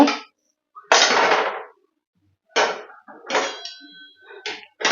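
A metal wok set down on a gas stove, producing several sharp clanks and knocks spaced apart with silence between them, close and fairly loud, with no talk.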